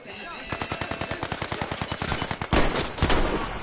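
Rapid repeating gunfire from the PS4 game Battle Warriors, a fast even burst of sharp shots roughly ten per second, loud and close, ending in heavier blasts, with a voice talking briefly.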